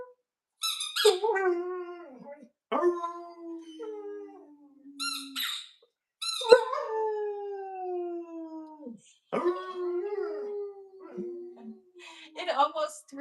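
A pet dog howls in long, wavering, pitch-sliding cries, several drawn-out bouts separated by brief pauses, heard up close and fairly quiet, with a few short squeaky yips mixed in.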